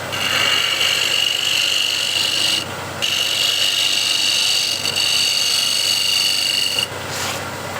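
A scraper cuts wood on a woodturning lathe, throwing off shavings: a loud, continuous rasping scrape over the steady whine of the spinning lathe, broken by two brief pauses where the tool lifts off.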